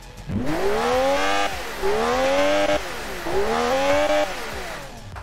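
Racing car engine in a racing video game, run with a yellow engine on a Pikes Peak hill-climb, revs up in three rising sweeps, each climbing in pitch before a gear break, loud and close with no talk.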